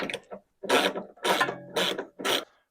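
A wrench on a BMW E36 motor mount bolt: four loud, close bursts of ratcheting and grinding metal, separated by short silent gaps, with no talk.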